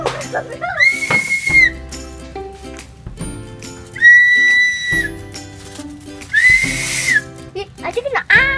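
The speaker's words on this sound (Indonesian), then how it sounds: "Ini peluit." A shrill whistle sounds three times in long blasts, separated by pauses, over a background of mechanical hum and clatter.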